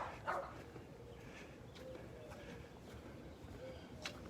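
A dog barking outdoors on a Florida morning in North Naples, faint and somewhat distant, with a brief louder bark near the start over quiet ambient background.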